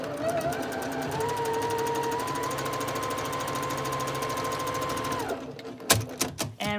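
Sewing machine stitching a quilt block for a maple leaf design at a quarter-inch seam, a steady fast whirring hum for about five seconds that stops abruptly, followed by a few light clicks and handling taps.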